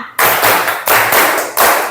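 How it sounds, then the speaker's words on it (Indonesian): A classroom of students claps together in counted rounds, loud, close bursts of many hands striking at once, each burst starting sharply and tapering off before the next begins. "Tepuk satu, tepuk dua, tepuk tiga, tepuk empat, tepuk lima"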